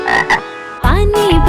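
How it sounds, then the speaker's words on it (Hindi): Frogs croak loudly in a children's rhyme setting, with several rich, buzzing croaks in quick succession, the last one long with a rising then falling pitch, up close and alone. "कीचड़ में से मेंढक निकला, मेंढक के साथ चले हम।"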